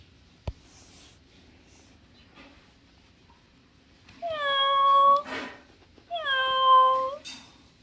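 A lifelike robotic toy cat gives two drawn-out electronic meows, each about a second long with a clear harmonic tone, close and loud against a quiet room with a faint knock early on.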